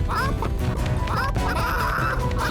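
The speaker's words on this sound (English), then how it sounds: "The chickens are stampeding." Busy cartoon commotion of stampeding chickens with squawking, quacking bird calls and clattering over a loud, rumbling background.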